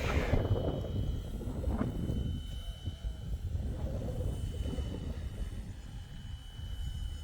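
A FlishRC L7 RC helicopter built on Flywing Bell 206 mechanics, on its first flight, gives a steady rotor and motor whine that holds at an even level throughout without clear surges.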